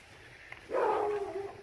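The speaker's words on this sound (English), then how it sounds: "And the old barking dog. Every neighborhood's got a barking dog." A single dog bark rings out after a quiet moment, a short drawn-out yelp from somewhere nearby.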